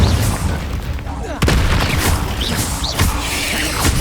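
Spell blasts boom and crash in the Hogwarts Legacy game on PS5, several loud impacts and whooshes in quick succession alongside shouted voices.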